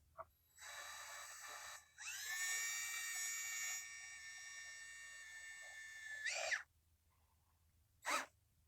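A power drill drives screws into wood pieces, a steady whining motor run lasting several seconds, with a few short bursts before it and one brief whir after it stops, heard close in a quiet room.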